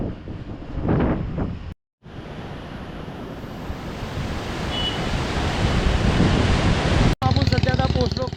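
Strong wind blows beside a river near Kargil in Ladakh, buffeting the microphone in a loud, rushing roar that swells over several seconds with brief dropouts, and a voice is briefly heard near the start.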